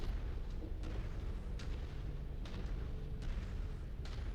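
Weapons chain-firing in a space combat video game, four at a time: a steady rumbling roar with a few sharp bursts spaced irregularly through it, loud and continuous, with no talk.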